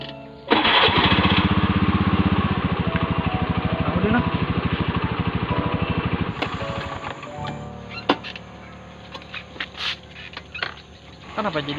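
A motorcycle engine bursts to life and settles into a loud, steady, rapid putter. Later it becomes rougher and more uneven, with clatter and faint voices nearby.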